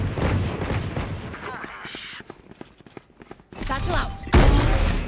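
Gunfire and a grenade blast in VALORANT Spike Rush: sharp rapid shots crackle through the middle, then a loud, heavy explosion bursts near the end, with player voices calling out over the action.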